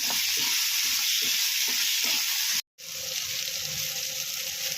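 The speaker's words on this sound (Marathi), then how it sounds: "आता आपण कांदा भाजून घेऊया प्रथम चांगला बदामी रंग येईपर्यंत भाजून घेऊया" Chopped onion frying in a spoonful of oil in a pan while mutton rassa is prepared, a steady close sizzle with a brief dropout, then a faint rhythmic stirring scrape under the hiss.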